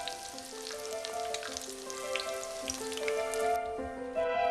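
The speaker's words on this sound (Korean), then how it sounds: "그리고 밀가루 옷을 입혀 바싹 튀기면" Flour-coated Korean wild vegetable dumplings, gomchwi leaves wrapped around a filling of greens and tofu, deep-fry in hot oil with a steady crackling sizzle and scattered pops, close and moderately loud, with a faint tonal background.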